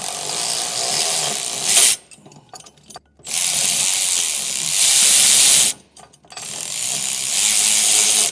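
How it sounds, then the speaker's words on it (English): Ratchet wrench with a 1/2 inch box end snugging down bolts on a Stromberg Carlson trailer tray cargo carrier, heard as three loud, close bursts of rapid clicking separated by short pauses. "you're going to probably want a box end and a ratchet to be able to get this all snugged down"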